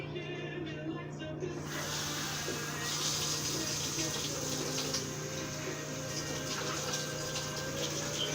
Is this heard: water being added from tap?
yes